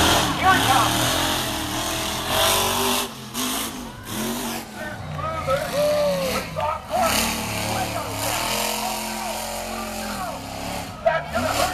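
A monster truck engine roars and revs through a qualifying run over big jumps, surging and dropping in bursts, while an excited announcer talks over it throughout.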